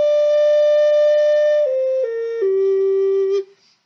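A wooden box flute plays a sustained, pure whistling tone that steps down through a few notes before stopping cleanly.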